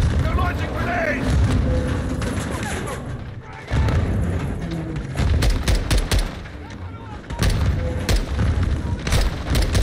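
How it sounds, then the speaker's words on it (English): Grenade blasts and gunfire from the Call of Duty Modern Warfare 2 (2022) campaign: repeated loud booms and rattling shots in a dense battle mix, with shouted voices over the combat. "Incoming! Take cover! They're launching grenades!"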